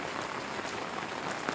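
Steady rain falling on a rainy day in Wonju, South Korea, a continuous even hiss of drops on surfaces with no pauses, moderately close and without voices.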